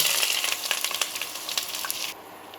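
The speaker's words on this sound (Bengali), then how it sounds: "এখন আমি এই তেলে পেঁয়াজ বেরেস্তা করে নেব" Sliced onions fry in hot mustard oil for beresta, the crisp onion topping for chicken tehari, giving a steady, close, crackling sizzle that thins out slightly near the end.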